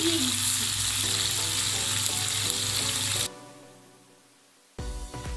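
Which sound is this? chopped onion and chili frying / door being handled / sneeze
chopped onion and chili frying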